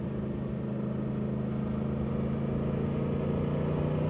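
A motorcycle engine on a ride along the Ozello Trail drones steadily and loudly close by. It holds a strong, even hum with a slight build in speed, mixed with constant wind rush and no talk.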